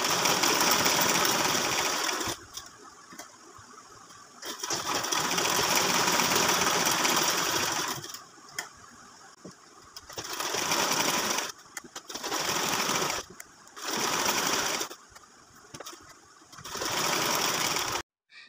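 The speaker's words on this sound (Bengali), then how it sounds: "তো প্রথমে আমি সামনের পার্টটা সেলাই করে নিচ্ছি।" Sewing machine stitching the front panel of a baby girl's frock: loud, rapid mechanical whirring runs in several bursts of a few seconds each, separated by brief pauses, with no voices.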